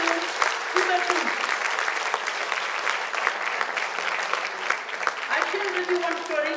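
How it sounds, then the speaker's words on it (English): Sustained applause from a lecture audience fills the room, with a speaker's voice cutting in over the clapping near the start and again at the end. "So I want a round of applause for my spirulina, please."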